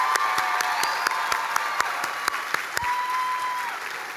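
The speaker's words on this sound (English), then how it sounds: "will you please join me in a big round of applause for our faculty" Audience applause for the faculty at a 2025 College of Health and Human Services commencement ceremony, a steady sustained wash of many hands clapping with a few sharp individual claps standing out, filling the hall at even loudness throughout.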